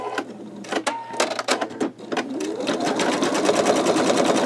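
A home embroidery machine stitches out the green leaf section of a skull design, running as a steady rapid mechanical chatter close by, which grows denser and more continuous after a few irregular start-up bursts.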